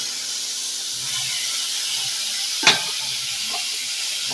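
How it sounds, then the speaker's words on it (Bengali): Pumpkin pieces fry with black cumin and green chili in a pan, a loud continuous hiss and sizzle with one sharp stirring scrape midway and faint clinks after, no voices. "কালো জিরে, কাঁচা লঙ্কা আর কুমড়ো একসঙ্গে ভালো করে ভাজা করে নেব।"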